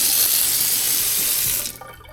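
A touchless kitchen faucet runs in waterfall mode, a steady close rush of water into the sink that cuts off near the end.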